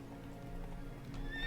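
Roach, a horse in a video game, gives a brief whinny over soft clip-clopping hooves, fairly quiet and close.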